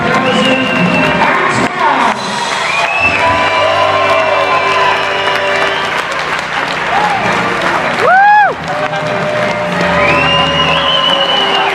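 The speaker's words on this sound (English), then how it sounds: "Your applause for the ring crew." A circus audience in the ring tent applauds and cheers for the ring crew, loud dense clapping with whoops and shouts, while a showman's voice and music ring out over the crowd.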